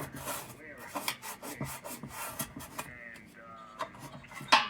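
Close scratchy rubbing as 800 grit sandpaper works over a vintage metal kerosene can, in quick irregular strokes with uneven pauses, fairly quiet throughout.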